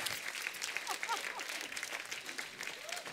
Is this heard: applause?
yes